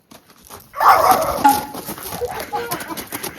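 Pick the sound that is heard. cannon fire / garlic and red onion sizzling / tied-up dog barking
tied-up dog barking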